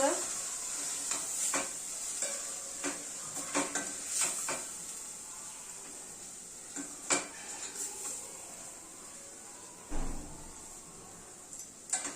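Misal masala sautés in a hot pan with a steady sizzle, while a spoon stirs and scrapes at intervals and knocks against the metal now and then, clearly and close up.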